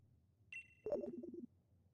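A Rotom Phone rings in the Pokemon Sword video game: a high electronic tone comes first, then a short warbling chime burst, heard alone and fairly faint.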